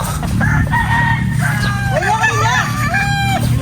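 A rooster crows in a drawn-out call over a steady background din, with people's voices mixed in.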